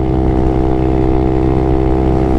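Honda Grom 125 motorcycle engine droning at steady high revs while riding on a motorway, a loud, continuous buzzing hum mixed with wind rush, close and uninterrupted.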